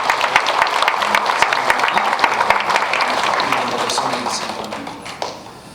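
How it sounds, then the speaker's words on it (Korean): A church congregation breaks into warm applause welcoming new members, dense steady clapping that fills the room and tapers off toward the end, with a voice audible in the mix. "뜨거운 박수로 환영하시겠습니다"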